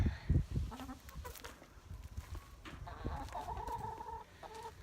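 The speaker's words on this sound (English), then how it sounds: "So these are my chickens." Faint backyard chickens, including Rhode Island Red hens, cluck and murmur intermittently at a distance, with soft scratchy rustling around them and a few higher calls.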